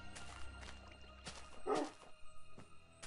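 Short yips and barks from a dog in the Minecraft video game come in a few separate bursts with quiet gaps, close and moderately loud, mixed with faint in-game sounds.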